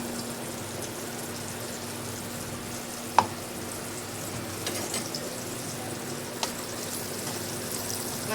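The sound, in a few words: ground spice paste frying in oil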